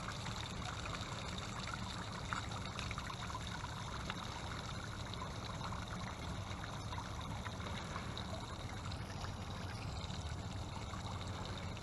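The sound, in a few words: water draining from a bass boat's drain plug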